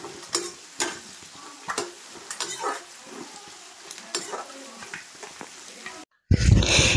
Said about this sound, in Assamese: এয়া কেৰাহীত দিলোঁ মই পিঁয়াজ নহৰু আদা ধুনীয়াকৈ ভাজিছোঁ